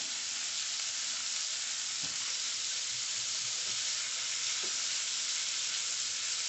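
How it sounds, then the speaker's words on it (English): Orange BBQ ribs sear in a hot pan with a dense, even sizzle that holds steady. A few faint clicks of handling surface near the middle. "those are getting a really nice sear on them"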